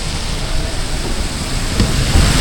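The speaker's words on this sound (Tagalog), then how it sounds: "Sakto naman po yung lumakas po ang ulan." Heavy rain pours down outdoors in a rural yard, a loud, dense, steady hiss that fills the whole stretch with no voices.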